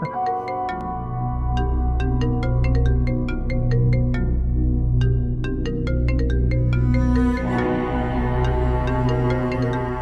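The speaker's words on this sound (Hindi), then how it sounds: "किसका फोन है?" A melodic electronic phone ringtone plays steadily for the whole stretch, its repeating chime notes loud and close, with a brighter hiss joining near the end.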